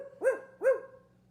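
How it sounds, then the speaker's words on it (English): Two sharp barks from a pet dog, evenly spaced about half a second apart, close and clear over a low steady hum. "The dog barked and barked and barked some more."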